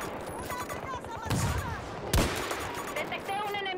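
Gunfire in Battlefield 2042 during sniper play, several loud shots with a standout crack midway amid battle noise and game voice chatter.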